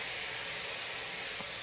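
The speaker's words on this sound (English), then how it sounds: "Hear that sizzling?" Tomatoes sizzling in a hot pan with beans and browned chickpeas, a steady close broadband hiss and crackle filling the whole moment without pause.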